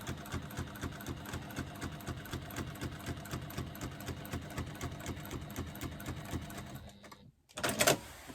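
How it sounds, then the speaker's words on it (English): A sewing machine top stitches along either side of a seam, running at a fast, even mechanical rattle for about seven seconds, then pausing briefly before a short final burst. "So I'm just going to top stitch either side of that seam."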